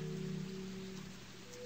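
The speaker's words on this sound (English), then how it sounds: "Oh, it's raining." Steady rain in a video game, a soft continuous patter under a low sustained hum of game ambience, fairly faint and with no talking.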